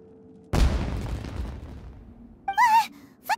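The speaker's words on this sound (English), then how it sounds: "Was that an explosion?" A single loud boom in a video game, the blast striking abruptly and its rumble decaying over about two seconds, followed by brief high whistling tones.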